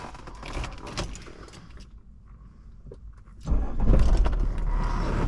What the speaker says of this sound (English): Car cranks right up.